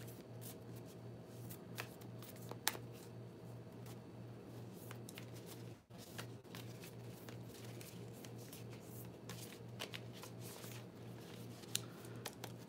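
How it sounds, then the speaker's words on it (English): A large oracle card deck is shuffled by hand, a faint, continuous soft riffling and patter with occasional sharper card flicks, close and quiet, no talking. "I like literally just go like this to shuffle them"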